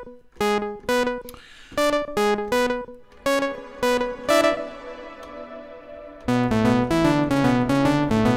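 A classic brassy synth patch on the Arturia CMI V software instrument plays punchy, bright staccato chords in a bouncing rhythm, then switches to a sustained, fuller held chord near the end, loud and alone.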